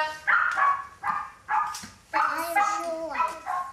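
A dog barks several times in a quick, uneven series of sharp yips and woofs, close by, with a whiny edge to some barks.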